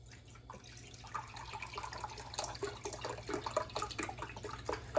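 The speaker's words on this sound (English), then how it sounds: "I'm going to put in my first cup of liquid. And I need one more cup of that liquid." Liquid pours from cups into a pot for cooking couscous, a soft continuous splashing and trickling with faint drips over a low steady hum.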